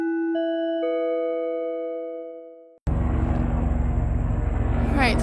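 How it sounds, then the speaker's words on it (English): A helicopter passes overhead, entering abruptly as a loud, sustained broadband roar after a short sequence of clear electronic chime tones fades out. "stalking by helicopter, crossing path again for the fourth time"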